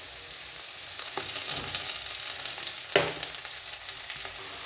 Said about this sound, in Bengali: করলার সাথে মশলাটি দু থেকে তিন মিনিটের মতো কষিয়ে নিতে হবে